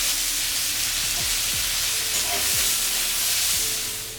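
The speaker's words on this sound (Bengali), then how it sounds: "কড়াইতে ওই তেলের মধ্যে আমি কালো জিরে ফোড়ন দিয়ে পেঁয়াজ কুচিটা দিয়ে দিচ্ছি।" Chopped onion and black cumin seeds sizzle in hot oil in a wok, a dense continuous hiss close up, steady and loud throughout with a few faint clinks and no voices.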